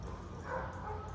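Dogs bark faintly in the distance on a residential street, a brief soft yip under steady outdoor background noise.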